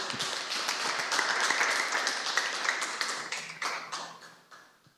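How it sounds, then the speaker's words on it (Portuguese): A church congregation applauds with dense, lively clapping that holds steady for several seconds and then thins out and fades toward the end. "Vamos aplaudir o Senhor."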